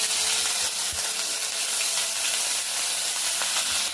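Food sizzles steadily in hot mustard oil while an onion-and-fish dish is being cooked, a constant bright frying hiss that holds close and loud throughout with faint clinks underneath.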